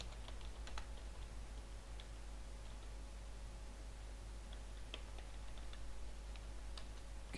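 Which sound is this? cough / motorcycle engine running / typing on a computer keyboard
typing on a computer keyboard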